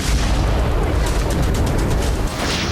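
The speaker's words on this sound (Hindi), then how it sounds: "जोरदार धमाका हुआ।" A loud, sustained blast-like roar from a drone strike explosion fills the whole stretch, dense and booming with crackling bursts, close and overwhelming.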